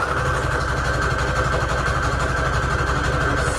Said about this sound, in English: Sewing up embellishments.